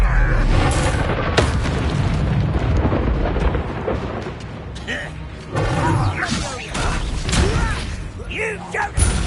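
Bombarda and Confringo explosion spells from Hogwarts Legacy combat go off as heavy booming blasts with crackling debris, stacked densely over a dueling soundtrack, loud and continuous with brief swells.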